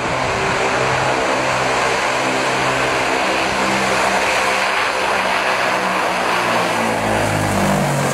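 Loud, continuous drone of a Tu-95 Bear bomber's propeller engines with a deep throbbing hum and steady roar, close and sustained without pause.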